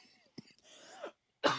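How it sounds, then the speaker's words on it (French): A few short, rough coughs or throat-clearing bursts, close by, with a quiet pause between them and a sharper final cough. "vous m'entendez, je tousse"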